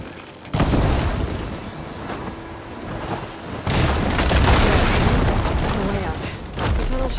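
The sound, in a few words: explosion of blaze barrels hit with fire ammo, Horizon Forbidden West video game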